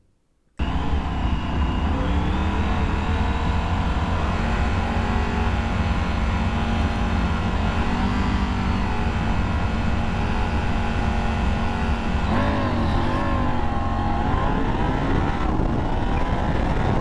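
Triumph Tiger 900 motorcycle being ridden, a loud steady engine drone heard from on board with wind noise, holding an even pace and then rising in pitch as it accelerates near the end.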